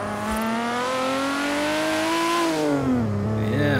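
A Nissan Skyline R32 in Forza Horizon 3 revs steadily with a rising engine tone, eases off briefly, then climbs again, loud and continuous with no talking.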